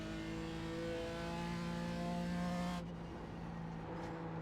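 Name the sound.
Pontiac GT4 race car engine in iRacing video game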